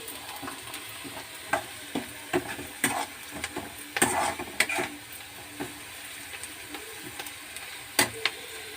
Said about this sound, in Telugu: కొంచెం వేగనిద్దాము, అయిపోవచ్చింది.